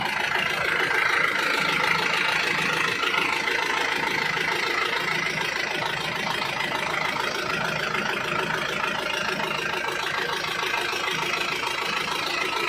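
A steady, loud truck engine idles continuously, a constant mid-to-low rumble with no change in pace throughout.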